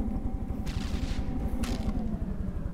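Missile launchers (LAMs) fire in a video game battle, giving a fast, steady train of deep thumping launches with two brief whooshing bursts over the top and no talk.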